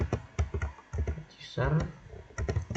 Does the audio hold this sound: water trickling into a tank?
no